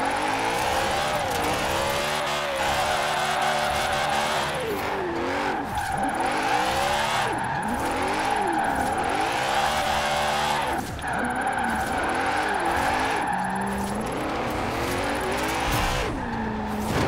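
A rear-wheel-drive BMW E30 drifts in Forza Horizon 4, with a revving engine whose pitch swings up and down in repeated arcs over a continuous tire squeal, loud and close for the whole stretch, without speech.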